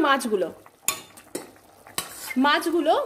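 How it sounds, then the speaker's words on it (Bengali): Fried hilsa fish pieces are dropped into a simmering cauliflower curry, with several sharp clatters of a utensil against the pot and a bubbling simmer underneath. "ভাজা মাছগুলো এর মধ্যে দিয়ে দিলাম।"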